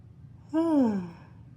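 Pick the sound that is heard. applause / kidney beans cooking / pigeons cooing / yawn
yawn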